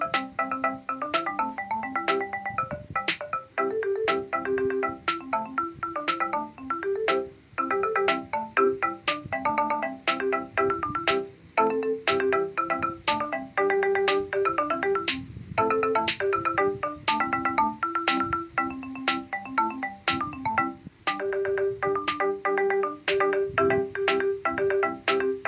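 Song made in Chrome Music Lab, bright plinking synth notes in a steady, repeating grid-like rhythm with a percussive tick on each beat, played continuously without talk.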